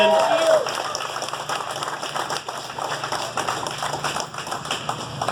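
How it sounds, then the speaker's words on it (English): An outdoor crowd at a Walk of Stars unveiling applauds an honoree, steady clapping of moderate loudness with scattered voices mixed in. "one more big round of applause for 2017 honoree, Ruthie Bolton."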